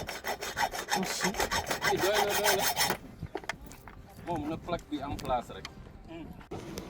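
A saw rasps rapidly back and forth through a metal padlock in quick strokes, then stops; voices talk over faint rubbing and scraping afterwards.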